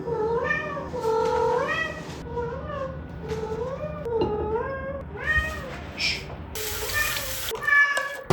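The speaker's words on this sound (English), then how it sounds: "He is easily the most vocal cat that I have ever been around" A cat meows repeatedly in long, wavering cries, close and loud, with a few shorter chirps and a brief splash of water near the end.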